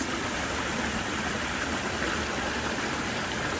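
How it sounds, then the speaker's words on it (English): Steady rushing of flowing water at Disney's Animal Kingdom park, a continuous broadband wash near a walkway bridge, with no voices over it. "Plus the sound of the water is nice and relaxing."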